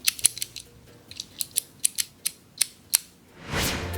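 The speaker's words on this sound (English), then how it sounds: "Did you hear the sound of the pins clicking into their special positions?" A key turning in a door lock, with a run of crisp close metallic clicks as the pins drop into place, about a dozen sharp ticks over a few seconds, followed by a brief soft rushing sound, no voices.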